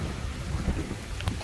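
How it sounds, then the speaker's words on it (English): Rain falling outdoors, a steady broadband hiss with low rumbling wash, fairly loud and continuous over a brief moment, no speech. "It's raining right now"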